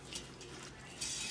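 A spoon stirs a Creole giant lima bean mixture in a pot, short scraping and clinking of utensil against the pot, close and brief, with no talk.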